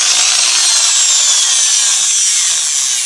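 Handheld electric drill running steadily after repair, with a loose internal part and the hammer mechanism removed; a continuous loud high whine holds for the whole stretch with no talk.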